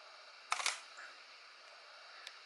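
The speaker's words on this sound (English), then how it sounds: "And I'll take a picture and see it's flashing." A camera shutter fires once, a quick close mechanical click-clack that stands out over faint room hiss, followed much later by a tiny click.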